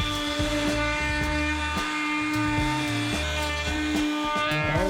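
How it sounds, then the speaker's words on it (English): A router used as a custom planer cuts across the bottom of a cedar countertop, a loud continuous high whine with rhythmic shuddering chatter as it works along the wood. "We're about halfway through planing the bottom of the countertop, and the custom planer is working."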